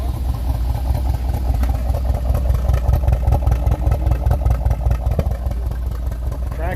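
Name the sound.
V6 car engine started and running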